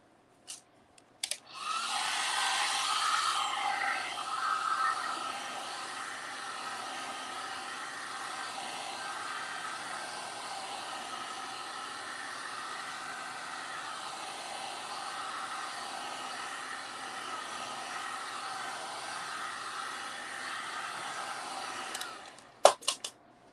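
A hair dryer blows continuously for about twenty seconds at close range, drying an Easter craft with a steady airy whoosh, then clicks off.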